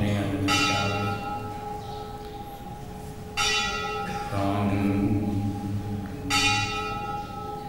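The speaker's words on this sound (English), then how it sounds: "Prabhupada very much wanted his bell to ring." A large temple bell rings three times, each strike loud and metallic with a long humming decay that carries into the next stroke.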